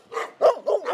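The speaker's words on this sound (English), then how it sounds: "Look at those big doggies." Big dogs barking nearby, four loud bow-wow barks in an uneven rhythm with a slight whimpering edge, heard clearly with no voices over them.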